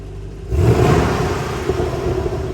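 A 2014 Chevy SS revving hard, a loud close engine roar swelling after a quieter start and holding steady, with faint crackle in the exhaust, no speech.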